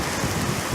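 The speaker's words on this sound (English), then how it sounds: "the lovely little rain we're having" Light rain falls steadily outdoors as a soft, continuous hiss with faint low rumbles, no voices present.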